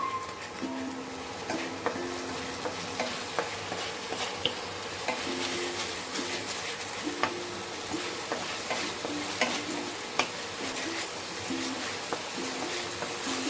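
Ginger-garlic paste stirred and fried in oil in a pan, giving a steady close sizzle with scraping stir strokes throughout and no talking.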